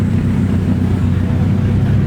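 A drift car fitted with an S14/S15 engine and TD06 turbo at Meihan Sportsland during qualifying, a loud, steady low engine roar close by with no break or rhythm change.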